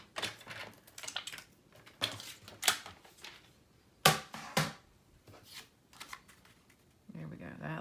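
A quarter inch is snipped off a paper tag. Crisp, close cutting snips and paper rustles come in uneven bursts, some quick pairs and some lone cuts, with a soft rustle near the end.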